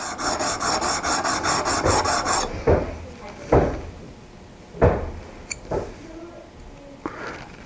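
A file rasps along the edge of a freshly sharpened scraper blade to remove the burr, with a steady run of quick strokes first, then a few slower, separate passes up close.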